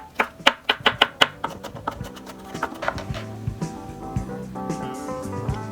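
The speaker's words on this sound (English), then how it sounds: "Mince the garlic." A knife chops rapidly on a cutting board, mincing garlic for egg fried rice. A quick run of sharp, close taps is followed by softer irregular chopping over a steady tonal music bed.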